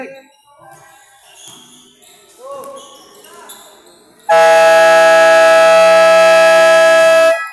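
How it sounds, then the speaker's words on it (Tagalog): A loud, sustained electronic game buzzer blares for about three seconds at the end of a first quarter, after a stretch of noisy crowd and court sounds. "Buzzer na lang maririnig."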